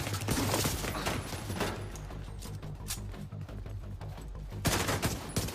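Dense, sustained automatic gunfire rattles continuously in the video game The Division 2, rapid overlapping shots and bursts filling the scene loudly, with a louder flurry toward the end.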